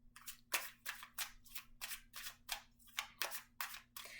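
Tarot cards being drawn and handled during a card reading, a series of about a dozen quick, crisp papery snaps and slides in steady rhythm, close and fairly quiet with no talking.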